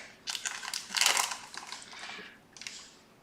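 Plastic bag crinkling and rustling close by, a run of crackly bursts peaking midway, then a short final crinkle after a pause.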